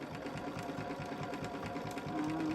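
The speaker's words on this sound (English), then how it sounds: "There I am sewing and talking." A sewing machine with a free motion foot stitches in a fast, steady mechanical whir with a rapid needle rhythm, running continuously and close.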